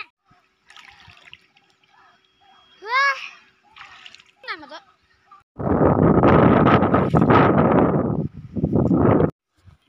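Water splashes loudly in bursts as someone bathes in a shallow stream, with children's voices and chatter before the splashing begins.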